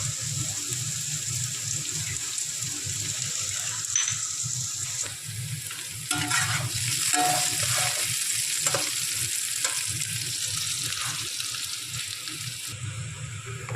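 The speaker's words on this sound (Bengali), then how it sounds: "রসুনটা একটু ভাজা ভাজা হয়েছে সাথে সাথে" Chopped garlic sizzles steadily in a hot pan, with occasional stirring scrapes and brief clattering sounds, and no talking.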